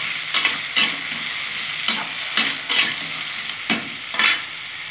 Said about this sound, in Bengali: ভালো করে এখন আমি ভেজে নেব।